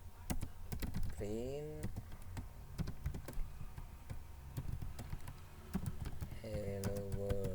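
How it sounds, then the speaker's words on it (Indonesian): Fast, irregular key clicks from typing on a computer keyboard while writing Python code in IDLE, close and crisp, with someone talking quietly over the tapping at times. "Kemudian nah kita ketikkan misal di sini"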